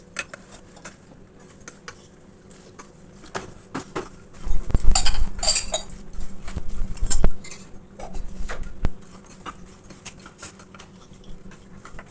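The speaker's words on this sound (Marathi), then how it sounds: "मी याच्यात मकाना घालते आणि चांगलं मिक्स करून घेते" Makhana (fox nuts) are tossed with sugar in a pan, giving a close, scraping and rattling patter of a spoon against metal, with bursts of clinking and the light nuts shifting, loudest in the middle.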